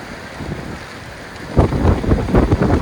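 Blustery wind and breaking sea waves on a winter beach in the rain, a steady rushing roar that swells louder partway through, with no voices.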